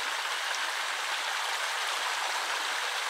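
A small river in Puerto Suelo, Argentina, rushes in a steady, unbroken wash of water noise, fairly soft and even throughout with no voices.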